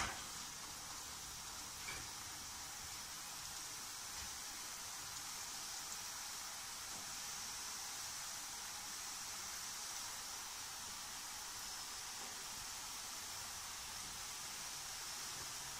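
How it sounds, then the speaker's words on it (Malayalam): Wheat-flour gulab jamun dough balls deep-frying in hot oil give a steady, even, hissing sizzle. It stays soft and constant throughout, with no voices. "ഇനി നമുക്കിത് എണ്ണയിലിട്ട് വറുത്ത് കോരി എടുക്കാം"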